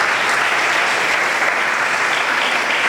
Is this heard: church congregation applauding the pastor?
yes